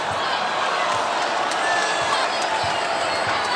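A men's college basketball arena crowd at Pitt versus West Virginia makes a dense, steady roar of noise with scattered shouts, loud and enveloping, while a commentator talks over it.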